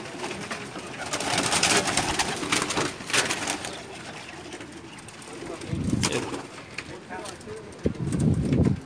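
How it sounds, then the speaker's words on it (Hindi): A special home-bred pigeon coos softly in a few low bursts, close by, amid wind noise and intermittent talking nearby. "ये उस्ताद जी एक स्पेशल कबूतर दिखा रहे हैं, इनके घर की होम ब्रीड है जी।"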